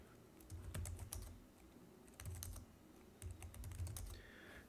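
Typing on a MacBook Pro keyboard comes in three quick bursts of close, crisp key clicks, separated by brief pauses.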